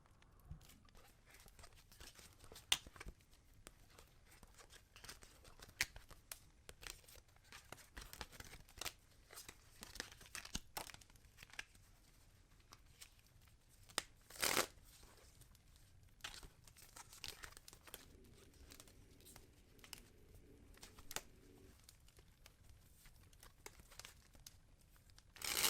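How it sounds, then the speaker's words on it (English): Tarot cards being shuffled, giving soft repeated crinkling and riffling patters with sharper snaps scattered through a quiet room, fairly close and without talk. "Now, I will begin by shuffling the cards."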